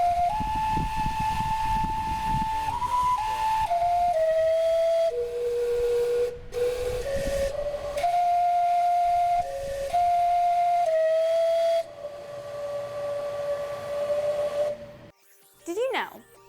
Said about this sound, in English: it helps operate one of Indianapolis's unique landmarks, the steam clock at the Indiana State Museum